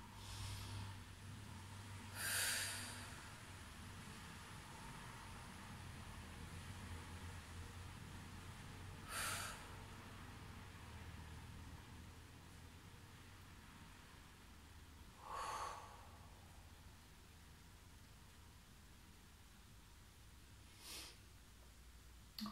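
Slow, deep breaths during a gentle morning yoga session: four audible inhales and exhales spaced several seconds apart, quiet and close against a faint steady room hiss, with no talking.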